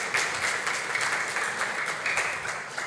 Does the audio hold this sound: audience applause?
yes